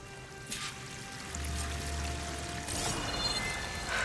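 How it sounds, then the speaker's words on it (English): A waterfall roars steadily in Horizon Forbidden West, a continuous broadband rush of falling water throughout, with no voices over it. "That waterfall must be coming from somewhere."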